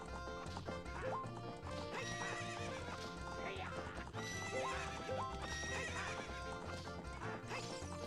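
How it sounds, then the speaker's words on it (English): In the video game The Legend of Zelda: Ocarina of Time, a horse gallops in rapid clip-clop rhythm and neighs loudly over game music during a race. "Always be nice to your horse and hug the rails."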